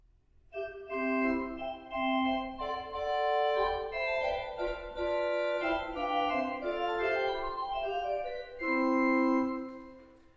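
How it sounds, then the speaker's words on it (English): A 17-rank symphonic pipe organ plays on a flute stop brightened by the 2-foot fifteenth, a clear, sprightly sustained melody with chords, steady and free of talk. "This is the 2-foot 15th, which adds a very, very sprightly and bright sound to the flute."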